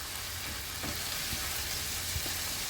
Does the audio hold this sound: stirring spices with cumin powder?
yes